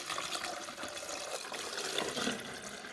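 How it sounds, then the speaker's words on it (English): Vinegar pours into the water reservoir of a Braun Brewsense drip coffee maker, a soft continuous splashing trickle of liquid at close range, steady and fairly quiet, with no one talking. "I'm just going to pour it back here where the water goes"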